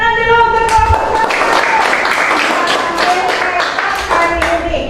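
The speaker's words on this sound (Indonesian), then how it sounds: "Tepuk tangan dulu untuk kelompok" Classroom applause for a student group after a presentation, a room of students clapping steadily and loudly for several seconds amid scattered taps.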